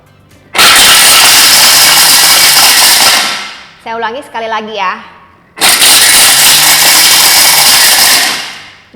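A powerful kitchen chopper on turbo, run in two loud roaring bursts of about three seconds each, close up, with someone speaking briefly between them.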